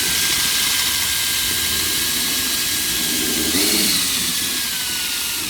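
A power drill set to plain drill mode whirs steadily while whipping up epoxy for patching a concrete floor, a continuous loud motor drone that swells briefly near the end.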